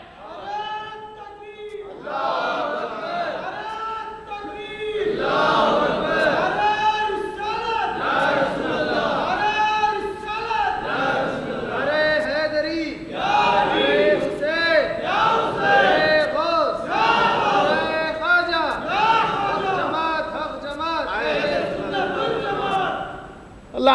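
A large crowd at a Milaad un Nabi gathering at a Jamia Masjid chants religious slogans in loud, rhythmic call-and-response waves that continue steadily throughout.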